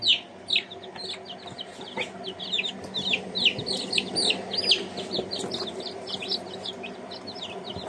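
Newly hatched chicks peep in a busy, overlapping chorus of short, high chirps, near and continuous, with no talking.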